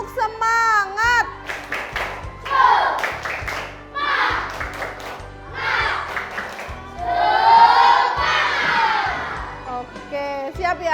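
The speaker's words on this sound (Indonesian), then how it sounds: "Coba kita tepuk semangat" Elementary school class claps a rhythmic spirit clap in unison, bursts of patterned clapping alternating with children's chanting and shouting, loud and close in a classroom.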